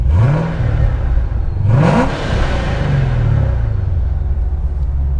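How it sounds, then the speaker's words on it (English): A supercharged V8 engine with headers in a 2014 Chevrolet Corvette Stingray revs repeatedly, rising and falling in pitch with a deep, aggressive rumble and a brief sharp high burst near the middle, close and loud. "that really aggressive, just sharp V8 noise with headers"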